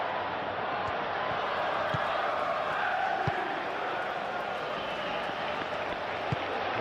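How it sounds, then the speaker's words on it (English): Stadium crowd noise from a PES 21 football match simulation of Benfica versus Real Madrid in the Champions League, a steady broad roar with a few scattered claps and thuds, continuous and fairly loud with no talk. "the crowd are reacting to that now."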